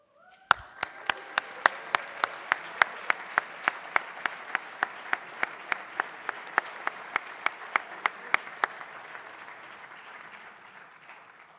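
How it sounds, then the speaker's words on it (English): An audience applauds capstone presenters at a Fuller Chapel ceremony: a steady wash of clapping with one sharp, evenly spaced clap standing out, holding for about nine seconds, then fading into a quieter tail. "please stand so we can give you a round of applause"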